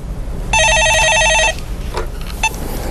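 A telephone rings on a call-in radio show about the stock market, one loud electronic trill burst of about a second, followed by faint room noise.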